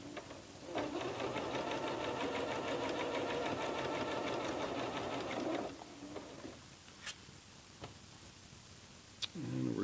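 A sewing machine stitches a hem in a fast, even run of mechanical clatter for several seconds, then stops, leaving a few faint clicks and handling noises before it briefly starts up again.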